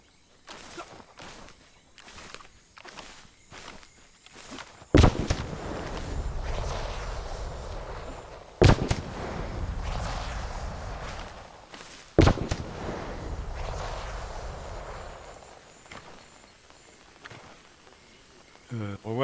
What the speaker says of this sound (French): Il y a un mec pas loin qui vous tire dessus.